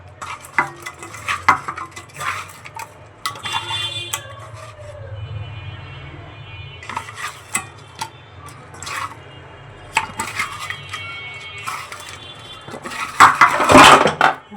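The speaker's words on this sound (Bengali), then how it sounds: "মশলার মধ্যে মাছগুলো মাখিয়ে নিচ্ছি" Chapila fish being mixed with spices in a bowl, heard as close, intermittent wet squishing and clinks against the bowl, with a louder burst of clattering near the end.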